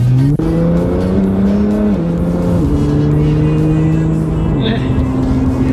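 A Nissan GT-R accelerates hard at full throttle, its loud close engine note climbing steadily through several gear changes as it pulls down a straightaway, with people talking over it.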